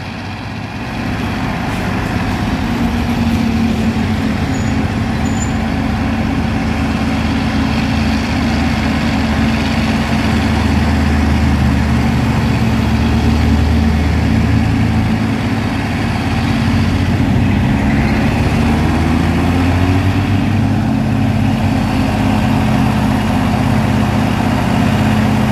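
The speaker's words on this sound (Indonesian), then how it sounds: "di sana ada truk trailer kontainer Fuso intercooler" A Fuso intercooler container trailer truck labours up a hill on Bukit K, its heavy diesel engine droning low and steady at close range, rising and shifting slightly in pitch as it climbs, with no voices.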